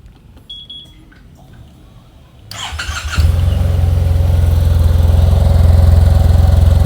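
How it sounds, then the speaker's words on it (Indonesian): A Yamaha TMAX 500cc two-cylinder scooter on its stock exhaust starts up after a quiet moment with a short electronic beep, then settles into a loud, steady, low idle close by. "Ini suara knalpot standar aja enak suaranya."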